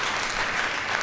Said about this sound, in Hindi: परमेश्वर के लिए तालियां बजाओ